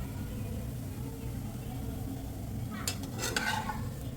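An egg roll cooks in a hot pan with a faint, steady sizzle that continues throughout, and a few short scraping clatters come near the end.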